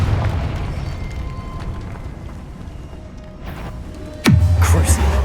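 A Confringo blasting spell in the video game Hogwarts Legacy bursts into a sharp, loud explosion near the end, preceded by a quick whooshing sweep, after several seconds of quieter game ambience.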